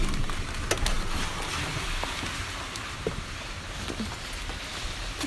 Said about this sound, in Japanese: 雨やばいね。